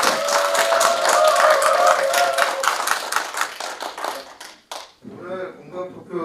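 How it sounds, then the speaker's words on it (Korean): Clapping from an audience at a community talk-show on single-person households, dense and steady for several seconds under a voice, then fading out as a speaker starts talking. "김남현 지도자님께 큰 박수 한번 더 부탁드립니다."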